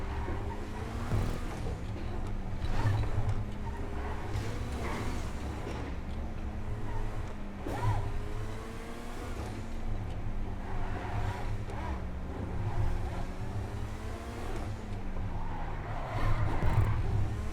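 The Neo sports car in GTA 5 drives a lap with its engine note rising and falling through gear changes and bumps, steady and continuous, no talk.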